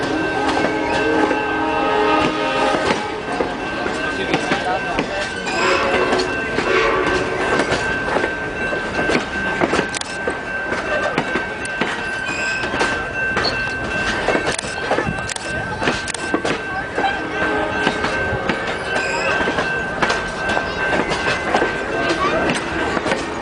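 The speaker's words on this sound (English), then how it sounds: "Here comes an old classic locomotive the BNSF was still using." A classic BNSF locomotive hauling a train past trackside at White Rock, British Columbia: a loud, steady rumble with clickety-clack wheel rhythm and occasional squeal, close by throughout, with voices heard at times.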